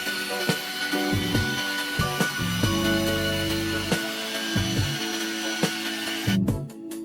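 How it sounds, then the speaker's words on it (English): A rotary or dual-action polishing machine buffs the paint of a 17-year-old Mercedes, its motor droning continuously with repeated load changes and short pulses as the pad works the surface, close and fairly loud. "A dot polisher, a rotary machine, removes scratches faster"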